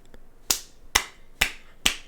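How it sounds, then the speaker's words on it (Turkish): Four sharp, evenly spaced hand claps close to the microphone in a quiet room, each a crisp snap with a short decay. "El çırpacağım ben."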